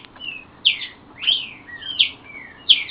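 Pixoxó songbird calling in a series of four short, bright chirps with thin whistled trailing notes, spaced about every second or so, clear and fairly close over quiet background hum.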